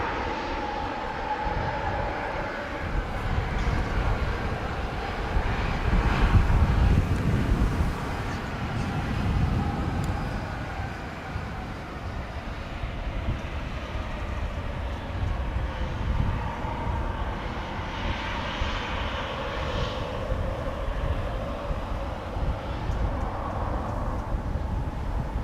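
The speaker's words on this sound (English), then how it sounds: "airplanes that are landing on Polderbaan from this point of view" Airliners landing on the Polderbaan runway, 18 Left, at Amsterdam Schiphol, heard from the north side along a cycling path on a windy day, a loud, sustained jet roar mixed with wind buffeting that swells and fades.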